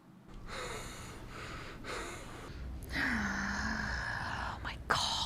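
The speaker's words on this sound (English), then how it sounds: "he has trouble breathing" A man in a drama scene struggles to breathe, with raspy gasps, snorts and wheezy inhalations repeating close up over several seconds, punctuated by a sharper gasp near the end.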